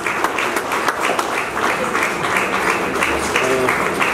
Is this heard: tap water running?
no